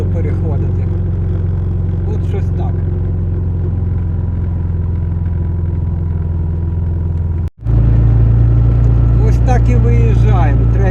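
A car's engine labours in third gear up the Bukovets mountain pass, a steady loud mid-range drone heard from inside the cabin that dips briefly for a gear change and comes back stronger, with someone talking over it.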